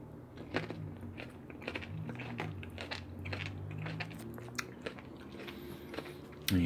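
Close crunchy biting and chewing of a cheap Aldi salad meal eaten inside a van, repeated crisp bites and mouth sounds across the stretch with no talking.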